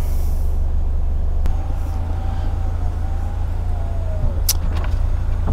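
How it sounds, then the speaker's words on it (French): The electric roof mechanism of a 2001 Peugeot 206 CC 2.0 16V convertible runs with a steady motor whine over the low drone of the idling engine, ending in a couple of sharp clicks. "on entend le système de toit s'ouvrir"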